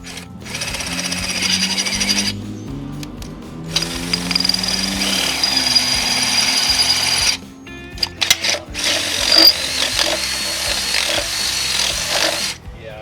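A power drill whines in long steady bursts separated by brief pauses, loud and close, with a grinding mechanical hum, drilling into the motor of a 1972 Ford Highboy.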